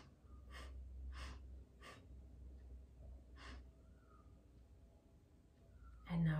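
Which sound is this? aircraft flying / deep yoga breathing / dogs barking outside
deep yoga breathing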